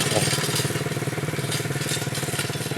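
Motorcycle ridden by children passing nearby, a faint, steady pulsing engine putter with a regular throbbing rhythm, heard at a distance beneath background noise.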